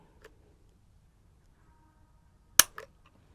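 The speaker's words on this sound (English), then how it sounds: "we'll do a trigger pull here with the Lyman pull scale" A single sharp trigger break on a Walther WMP .22 Magnum pistol being measured with a Lyman pull scale, a crisp near click followed by a softer second click in an otherwise quiet room.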